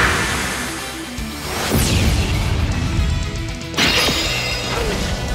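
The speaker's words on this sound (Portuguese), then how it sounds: "Toma! Explosão galáctica!" A Galaxian Explosion special attack from a Saint Seiya fighting game, heard as two loud, dense crashing blasts, each with a sweeping whoosh. The first hits near the two-second mark and the second near four seconds, over a constant roaring wash of effects.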